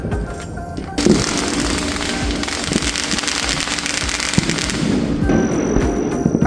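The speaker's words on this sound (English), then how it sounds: "Fireworks." Neighborhood Fourth of July fireworks crackle and pop in a dense, continuous barrage of rapid bursts, loud and sustained, heard from a porch with trees nearby.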